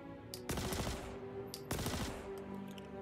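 Rapid bursts of submachine gun fire from the Kastak Arms Custodian SMG in the video game Star Citizen, two loud sustained volleys with short pauses between them, close and sharp.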